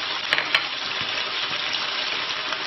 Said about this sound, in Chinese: 炒到这个鸡肉收缩发紧的时候，就倒入干红辣椒